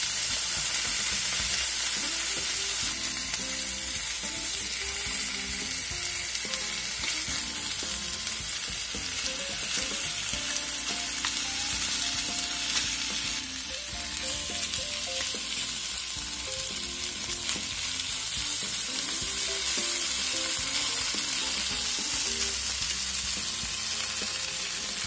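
Beef short ribs searing in a covered pan and flipped partway, a loud, dense, unbroken sizzle with brief clatters of the turn, close and steady for the whole stretch, no speech.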